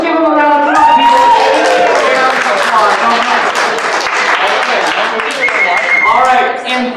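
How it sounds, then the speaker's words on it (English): An awards ceremony audience claps and cheers for about seven seconds, loud and continuous, with voices and whoops mixed in among the clapping. "let's just give him a round of applause, people"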